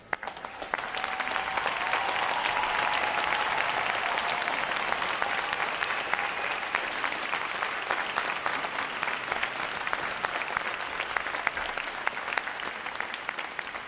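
Sustained applause from a large audience honoring standing veterans at a U.S. Navy boot camp graduation at RTC Great Lakes, a dense steady wash of clapping that swells early and holds loud for the full stretch.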